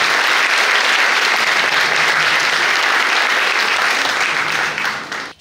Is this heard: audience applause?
yes